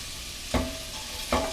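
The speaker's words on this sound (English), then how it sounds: "I just was heating up some olive oil while I was chopping my vegetables, and just add all of these." Chopped vegetables dropped into hot olive oil for Moroccan red lentil soup, giving two short sizzling bursts over a quiet kitchen background.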